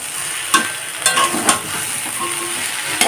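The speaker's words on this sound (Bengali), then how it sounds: "কড়াইটার উপর থেকে থালাটা সরাতেই সবজিগুলো অনেকটাই ভাজা ভাজা হয়ে এসেছে" Mixed vegetables frying in a wok, a continuous close sizzle with a few sharp scrapes and clinks as they are stirred, no voices present.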